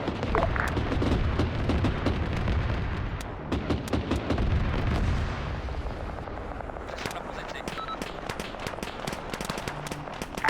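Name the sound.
gunshots from the south in a video game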